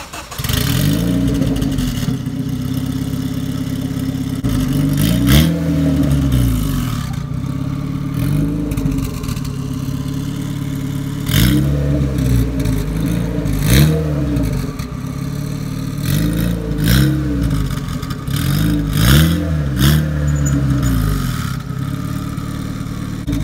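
A Honda car engine revs repeatedly while the car is being moved, loud and close, with rising and falling surges over a steady idle and no talking.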